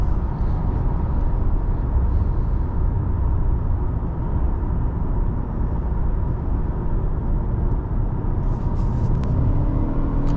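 Inside a 2025 Toyota Camry XLE under smooth acceleration, a steady, even engine and road rumble fills the cabin, moderately loud and unbroken throughout.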